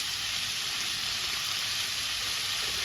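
Coriander and cumin seeds frying in hot oil, a steady close hiss and sizzle with no breaks and no talk.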